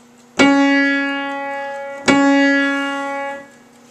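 Two piano notes are struck in turn while both A keys are held down, each ringing out with a rich stack of sustained overtones. They are close and clear, decay slowly over about three seconds, and no one speaks.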